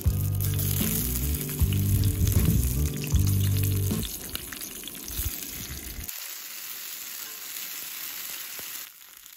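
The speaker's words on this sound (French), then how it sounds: "Tu mets le feu à fond. Tu brûles vraiment toute la peau de l'aubergine." Eggplant skin charring in a small pan over a gas flame at full heat, a loud steady sizzle and crackle that eases after a few seconds, then cuts off to quiet outdoor hiss in the mountains.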